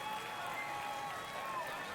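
A home crowd in a baseball video game roars after a home run, a steady, broad wash of cheering that holds level throughout without breaks.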